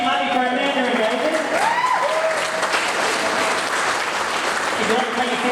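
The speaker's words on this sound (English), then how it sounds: "So please continue clapping for Amanda and David." Wedding guests clap steadily for the bridal party, a dense, sustained burst of applause filling the room while a voice speaks over it throughout.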